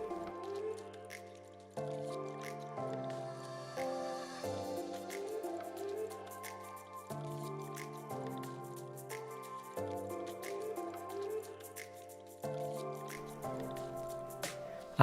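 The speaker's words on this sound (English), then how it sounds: "So then I wash the car as normal." Water drips and splashes steadily off an Audi S3 during a hand wash, a close, quiet patter of drops broken by a few soft wet squishes and pours at irregular intervals.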